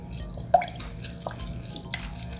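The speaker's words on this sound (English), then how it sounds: "Squeeze the clementine juices out of the margarita." Clementine juice drips as the fruit is squeezed for a margarita: a few faint, scattered liquid drips against a quiet background.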